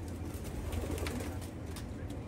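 Soft, low cooing of a racing pigeon at a loft during a race arrival, a faint repeated coo over a steady hum of background noise.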